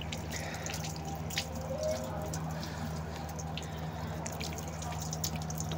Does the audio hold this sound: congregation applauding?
no